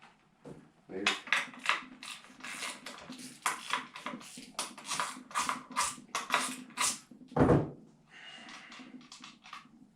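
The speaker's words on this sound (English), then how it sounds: "Grab my socket. Take the case right on off for now." A socket wrench ratchets in quick bursts of dense clicking to remove the case from an MS 660 chainsaw being rebuilt. The bursts are close and repeated in short runs, with one heavier metallic clunk partway through.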